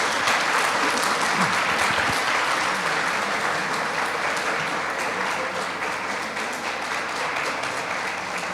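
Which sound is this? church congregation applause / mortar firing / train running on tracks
church congregation applause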